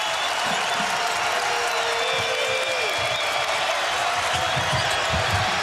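A packed Fiserv Forum crowd at a Marquette–Kansas State college basketball game cheers and applauds continuously, a dense, loud roar with scattered whoops and no talk on top.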